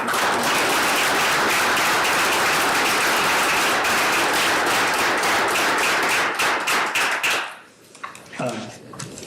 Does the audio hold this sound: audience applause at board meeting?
yes